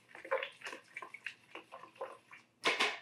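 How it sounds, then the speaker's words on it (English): A sourdough starter is stirred into 12 ounces of filtered water in a bowl, giving irregular close swishes and sloshes that end in a louder splash, with no one speaking. "Now I'm going to stir my starter into my water, get it kind of distributed evenly."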